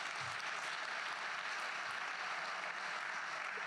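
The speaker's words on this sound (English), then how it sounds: "How about a round of applause for Kevin?" Steady, even audience applause at a commemorative evening event in Boston, a dense wash of many hands clapping throughout, fairly distant and without voices.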